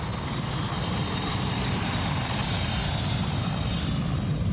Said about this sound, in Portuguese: Helicópteros grandes, helicópteros pequenos, bombeiros.